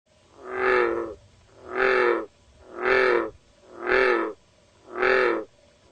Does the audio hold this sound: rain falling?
no